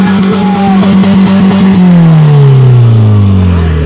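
A car engine strains and revs hard under load, its pitch rising then sliding steadily higher in a long whine as the clutch slips, loud and close with a faint voice underneath.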